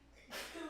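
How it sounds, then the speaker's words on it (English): A single sharp sneeze bursts out after a brief quiet moment, close and fairly loud, with a breathy tail. "sharing pollen sneezes"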